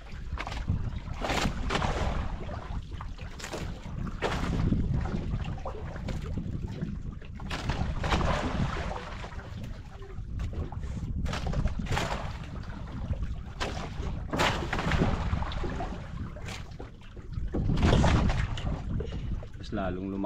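Boats on open water, with wind buffeting the microphone, waves slapping, and a steady engine-like rumble underneath; voices talk intermittently.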